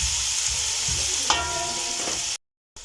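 Potatoes sauté and brown in a hot pan, giving a steady, close sizzle and crackle with a few stirring scrapes, then breaking off abruptly into a short silence before resuming.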